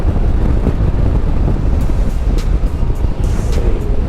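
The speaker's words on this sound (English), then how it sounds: "Okay, I feel a lot of wind on my helmet." Strong wind roars continuously over a rider's helmet on a 2020 Honda GoldWing Tour DCT motorcycle in high wind, loud and close, with no voice over it.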